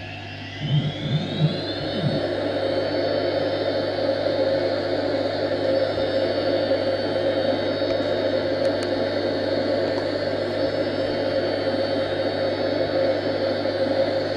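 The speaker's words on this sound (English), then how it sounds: "we'll throttle up and we'll get going" A Hawker Hunter jet in a flight simulator game throttles up, its turbine whine rising in pitch at first and then holding as a steady loud roar with a constant low hum beneath, close and unbroken, no talk.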